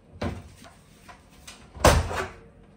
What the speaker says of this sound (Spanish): Ya tenemos los seguros levantados, levantamos la puerta